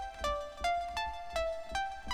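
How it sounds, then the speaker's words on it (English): A Serum synthesizer plays a bright, short pluck sound, repeated about five times in an even, quick rhythm, clean and alone with no voices. "I have a Serum instrument here, and this instrument sounds like this."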